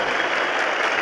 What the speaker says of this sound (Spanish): Un fuerte aplauso para ellos que se convirtieron y volvieron a la iglesia como Pablo.